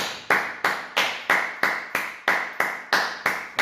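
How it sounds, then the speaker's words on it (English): One person claps slowly and evenly, about a dozen sharp claps, near and alone, with steady spacing between each clap. "I'm giving Tayo an applause. I'm giving him an ovation right now"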